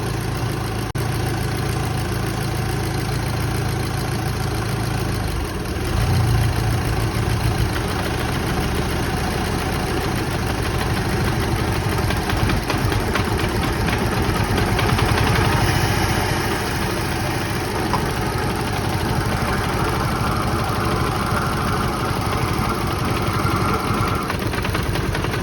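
A Golf GTI Mk5 engine idles steadily during an intake valve cleaning, a loud, close, continuous rumble with a slight ticking knock and brief rises in the idle, no talking over it.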